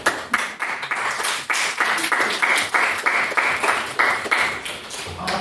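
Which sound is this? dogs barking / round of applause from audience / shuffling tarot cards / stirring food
round of applause from audience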